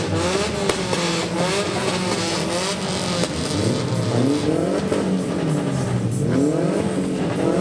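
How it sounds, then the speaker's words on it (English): A first-model Toyota Tacoma drives in a July 4th Liberation Day parade in the CNMI. Its engine hums and revs steadily at close range, with a rising and falling pitch and no speech. "The very first model Tacoma right in front of our cameras."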